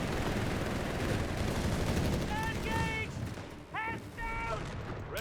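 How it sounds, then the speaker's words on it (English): Machine gun fire and battle noise in a Company of Heroes 3 match rattle steadily under a dense wash of combat sound, joined by short whistling tones and with a voice talking over it. "Machine gun joining as well here."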